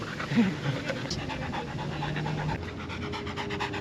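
A dog pants close by in quick rhythmic breaths while a person talks to it softly over the panting.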